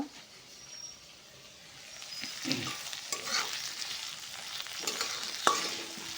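Beans, squash, carrot and chili fry in a pan while oats are being made, with a soft sizzle under repeated scraping stirs that grow busier after the first couple of seconds, close and fairly quiet, with no talking.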